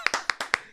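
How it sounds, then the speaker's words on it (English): A few people clap on a morning show, six sharp separate claps in an uneven rhythm, close and fairly quiet, with no talking over them. "let's clap"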